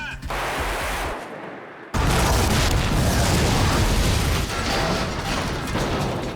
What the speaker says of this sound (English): It's because we have explosions and fire, and you can't change the size of fire.